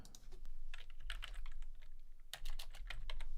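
Rapid keystrokes on a computer keyboard in a small studio booth, typed in quick bursts with a short pause mid-way, close and fairly loud with no talk.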